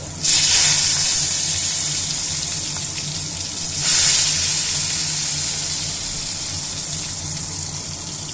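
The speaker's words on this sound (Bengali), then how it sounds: "লাল লাল করে বেগুনগুলো ভেজে নেবো।" Brinjal pieces drop into hot oil in a wok, bursting into a loud hissing sizzle that flares again a few seconds later, then settles into a steady frying crackle.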